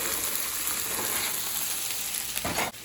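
Okra (bhindi) frying in a pan sizzles with a steady, close, dense crackle that holds evenly throughout, then dips briefly near the end.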